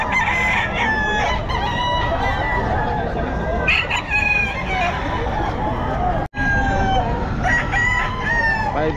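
Sweater gamefowl roosters crow repeatedly and cluck at a busy pet market in Bocaue, loud and close, amid crowd babble, passing traffic and someone talking.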